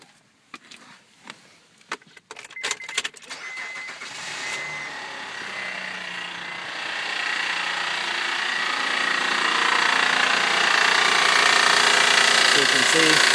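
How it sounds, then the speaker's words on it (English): A 2007 Honda Pilot with a suspected timing belt fault starts up after a few clicks and taps, then settles into a rising, steady idle with a harsh, noisy whir under the hood, heard close up. "I'm about to start up the car so you can hear the noise."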